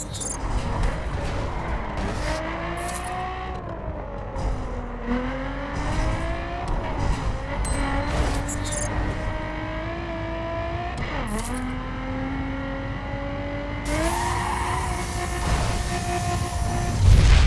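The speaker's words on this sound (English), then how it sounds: "Little nitrous action there to beat Zoe." Arcade-style racing engine in The Crew on Xbox One, revving hard and climbing through gears with a brief surge near the end as nitrous kicks in, loud and continuous with skid-like hiss.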